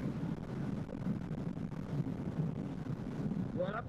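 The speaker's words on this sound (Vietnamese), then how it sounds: "ghê lắm ghê lắm, gió ớn luôn" Strong wind buffeting the microphone on a motorbike ride along the coastal road near Vinh Hao during a long Tet tour from Dong Nai to Phu Yen: a continuous, loud, rumbling roar throughout.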